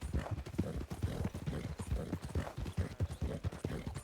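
Horse hooves clip-clop at a steady trot in Red Dead Redemption 2, a close, even rhythm of hollow thuds running throughout with faint background voices.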